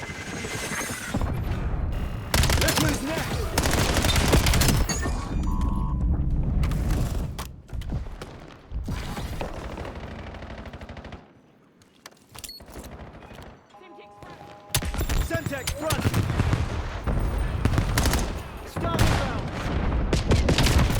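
Gunfire in the Black Ops 7 beta: dense bursts of automatic weapon fire and explosions with game mechanical effects, loud and continuous, dropping to a brief lull in the middle before resuming.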